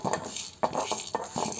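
Peppercorns and cumin seeds frying in a kadai for tomato pepper rasam, with a low sizzle under repeated metallic scrapes and clinks of a spoon against the pan at a close, steady rhythm.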